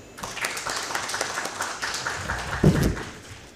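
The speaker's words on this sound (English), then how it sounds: "Please give a round of applause for Dr. Tahir Hashmi." An audience at a medical lecture on musculoskeletal complications claps for a speaker, a steady patter of many hands from fairly close that holds throughout and swells briefly near the end.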